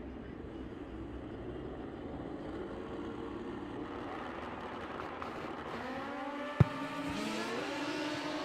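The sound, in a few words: Super Comp drag racing car accelerating down the lane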